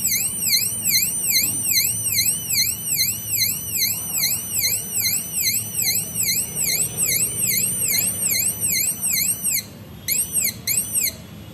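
An electronic temperature alarm on an embedded project board sounds a loud, rapid repeating warble of high sweeping tones, pulsing steadily for about ten seconds, then breaking into a few shorter bursts near the end, with no talking.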